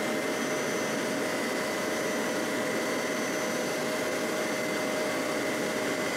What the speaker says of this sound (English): So I'm pulling the trigger on the Hoover.